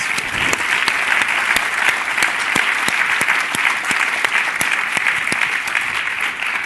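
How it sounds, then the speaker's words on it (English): Steady applause from a crowd, dense clapping with a few sharper claps standing out, sustained evenly throughout. "Please give them a round of applause."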